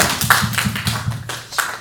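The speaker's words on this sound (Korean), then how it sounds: "오늘 하나님께 영광의 박수 올려드리겠습니다" A church congregation gives a short burst of applause, a quick run of sharp, fairly close hand claps in rapid rhythm lasting under two seconds.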